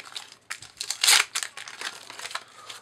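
Football sticker packets for the 2016-17 Champions League are torn open, with continuous crisp crinkling and rustling of wrappers close by and a sharp louder rip partway through.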